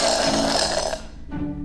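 One loud, drawn-out belch from a character in the 2018 film Juno Rising, a deep, rough and rumbling burp close up that lasts over a second before it trails off.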